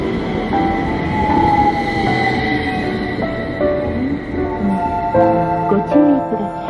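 Utsunomiya Light Rail tram pulling into a stop, a steady rolling rumble with tonal wheel and motor whine, fairly close and loud, with a repeated platform announcement heard faintly underneath.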